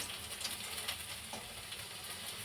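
Fish frying in a pan gives a faint, even sizzle and spatter that runs unbroken throughout, with no voices.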